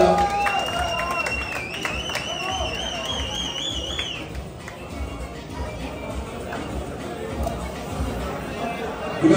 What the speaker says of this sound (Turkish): Evet. Alkışlarla.